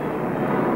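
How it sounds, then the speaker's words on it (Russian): The last airplane arriving at Stalingrad in World War II gives a steady, loud, droning engine roar that fills the brief moment without pause. "Когда прилетел последний самолет, он привез с собой 19 искалеченных людей"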